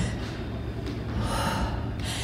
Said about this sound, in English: I'm talking to you and I'm trying to breathe at the same time